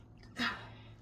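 One short sneeze bursts out once, faint and close, against a quiet indoor hum.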